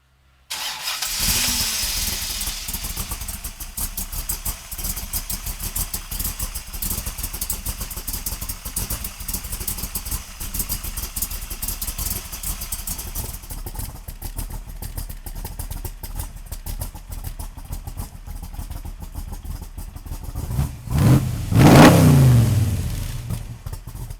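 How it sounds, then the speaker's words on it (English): A Shelby Cobra Backdraft replica, styled after a 1965 Cobra and fitted with a Roush engine, idles with a steady mechanical rumble for a long stretch, then is revved hard in a loud, rising burst near the end. "Now we're gonna fire it up for you right now."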